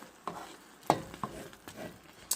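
Canned apples with green chile cooking in a pan over raised heat, with a soft low sizzle broken by several distinct stirring scrapes and knocks of a utensil, close and fairly quiet.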